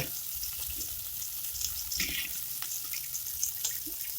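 Beef or meat seasoned with rendang-style spice paste heating in a pan for martabak egg filling, giving a soft, steady sizzle with faint watery crackles throughout, no voices.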